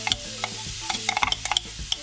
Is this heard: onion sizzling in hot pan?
yes